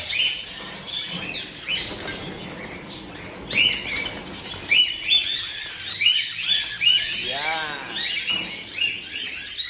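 Pied pet birds flutter and flap their wings in bursts while being caught by hand, with light chirps and rustling close by.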